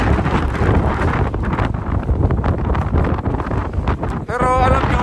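Winter snowstorm wind in Canada buffets the microphone in loud, gusting roars and rustles, with brief muffled voices passing under the blustery noise.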